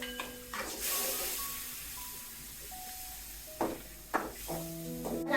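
Ginger paste and green chillies fry in a pan, giving a quiet, steady sizzle with soft stirring clatters and a few brief scraping bursts, with no talk over it.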